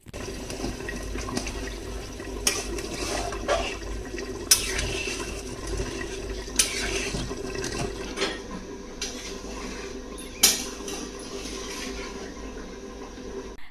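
Water splashes steadily into a pot of rice for cooking at home, a continuous moderate pouring rush with a few small knocks of the pot, no talking.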